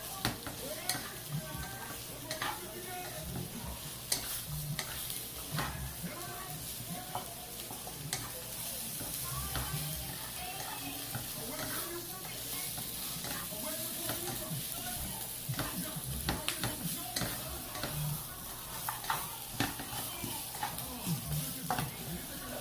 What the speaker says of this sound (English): Constantly moving it. I really want these carrots to soften up a bit.